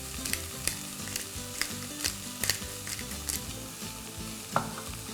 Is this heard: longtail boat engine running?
no